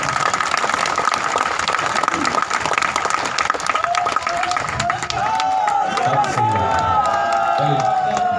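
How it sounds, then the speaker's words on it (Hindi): Audience clapping at a Hindi poetry gathering, a dense, loud stretch of applause mixed with crowd noise and a few cheers, with a voice speaking over it toward the end. "एक बार तालियां बजा दीजिएगा"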